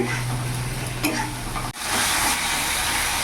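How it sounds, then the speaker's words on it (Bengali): Spice paste with chopped tomato frying in a pan, a close steady sizzle under stirring, briefly broken by a sharp dip before the frying resumes louder. "ভালো করে কষিয়ে নেব যতক্ষণ না মশলা থেকে তেল ছেড়ে দিচ্ছে"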